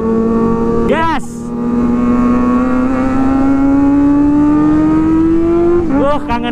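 Kawasaki ZX25R with an Arrow exhaust and Honda CBR250R with an open exhaust revving loudly, a sustained high-pitched engine drone climbing steadily with sharp throttle blips near the start and end, with voices briefly audible.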